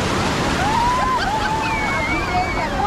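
Sea waves wash and churn in a constant broadband rush where people are bathing in the sea at Puri, with faint voices or calls rising over the surf.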